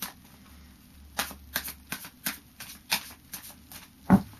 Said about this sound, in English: I'll just do a final shuffle for you.